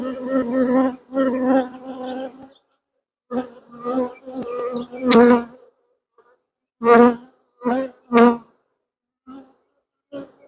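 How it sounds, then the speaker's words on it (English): Honey bees in a crowded hive box during an inspection make loud, close buzzing in repeated droning bursts, some long and some short, with brief quiet gaps between them. "when you have this many bees in the box, how do you not pinch one?"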